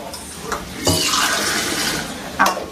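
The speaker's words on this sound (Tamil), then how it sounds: "தண்ணி கொஞ்சம் ஊற்று" Water pours into a cooking pot of carrots in a home kitchen, a steady close splashing stream lasting a few seconds with brief louder surges at the start and near the end.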